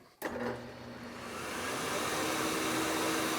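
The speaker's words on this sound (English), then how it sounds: "Now when I start the drill press, it'll start the vacuum." A sharp click, then a shop vacuum motor whirs up as the drill press starts and settles into a loud, steady vacuum roar that builds slightly and holds.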